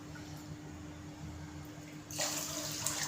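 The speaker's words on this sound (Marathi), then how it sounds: "आणि 2 वाट्या मी फुल भरून पाणी घेते" Water pours into a pot for gulab jamun sugar syrup, a faint low hum giving way to a brighter, louder rush of running water for the last second.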